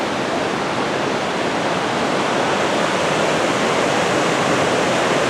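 A river rushes beside a forest trail at Mt Rainier National Park, a loud, continuous wash of turbulent water that holds steady from start to finish with no talking.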